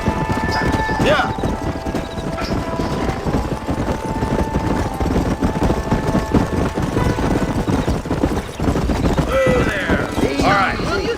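Horses' hooves clip-clop steadily through Red Dead Redemption, a close, continuous rhythmic trot over a busy game soundscape, with voices talking now and then.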